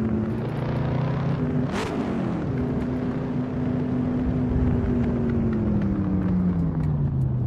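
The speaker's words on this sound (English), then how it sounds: "Oh, this car sounds so good." A car engine in Assetto Corsa hums steadily through a gear change, with a quick rev flare around the shift, then settles into a smooth, gradually falling drone while cruising.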